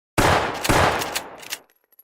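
A sharp, close burst of gunfire in the video game GunZ: The Duel: two quick loud shots fired as a swap shot, followed by a short rattling tail before falling silent.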